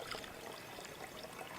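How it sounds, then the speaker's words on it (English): Water pours in a steady, continuous trickle into a Kubota coolant jug, a soft broadband splashing with no pauses and no voices. "I'm starting to add water to it now"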